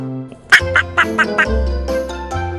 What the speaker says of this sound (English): Yes, it is a duck.